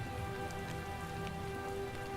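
Steady rain falls in a fantasy video game, a dense, even hiss of drops hitting surfaces that continues without pause, heard alone.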